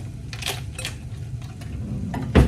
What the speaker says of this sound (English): we got to stir this for 1 minute